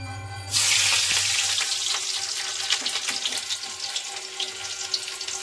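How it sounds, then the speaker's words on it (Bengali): Chopped onions drop into hot oil with ground cumin, bursting into a loud, steady sizzle that holds and crackles near and alone, with no talking. "তখন আমরা দিয়ে দিব এই যে পেঁয়াজ কুচি।"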